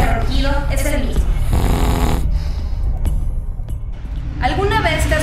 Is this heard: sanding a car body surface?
no